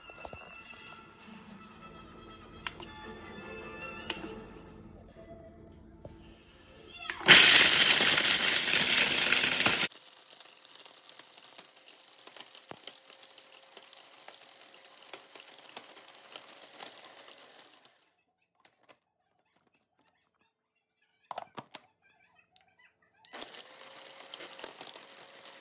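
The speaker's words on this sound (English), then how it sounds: "throw them into a blender or food processor of some sort to" A blender or food processor grinds cooked bones into bonemeal in a loud, harsh burst lasting about three seconds. Quieter rattling and clinking come before it and after it.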